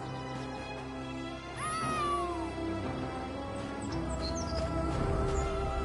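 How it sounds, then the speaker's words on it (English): A cat named Winks meows in Elder Scrolls Online, one clear rising-and-falling meow standing out over steady game music and ambience, with a few faint high chirps later. "Follow that cat!"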